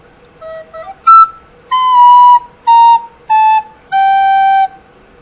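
A recorder plays a short melody, bright, breathy notes, several quick notes followed by longer held tones, close and fairly loud.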